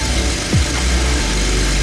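A freshly rebuilt BMW Z4 engine idles after installation, a steady close rumble with one brief falling whine near the start.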